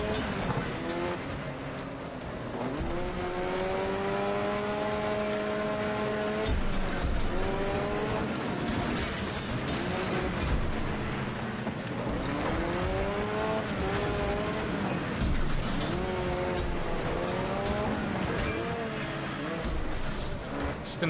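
Race car engines in Wreckfest roar and rev continuously, pitch rising and falling through gear changes, with occasional tire squeal and impacts in a dense, loud pack.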